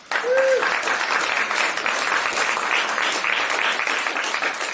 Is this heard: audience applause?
yes